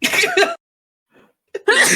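A single quick sneeze cuts in between stretches of someone talking during a tabletop role-playing game session, followed by a short pause before the voice resumes.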